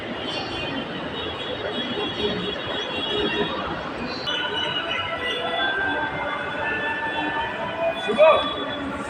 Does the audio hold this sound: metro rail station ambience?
yes